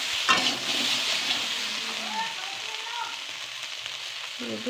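Fish curry is stirred and sautéed in a kadai, a soft continuous sizzle with spatula scrapes and occasional clinks, fairly quiet and close.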